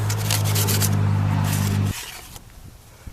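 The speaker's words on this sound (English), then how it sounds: "we would just sand a little bit to try to get it pretty much off" Sanding an old gasket off a Farmall B tractor manifold: a steady, loud rasping scrub for about two seconds that stops abruptly, followed by a few faint clicks.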